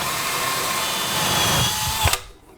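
A power drill bores through ceramic wall tile and into drywall with a loud, close, steady whine that builds, then cuts off abruptly near the end as it breaks through.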